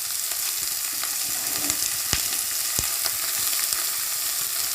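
Shredded cabbage frying in a hot pan, a steady close sizzle with a few sharp crackles and pops throughout, no voices.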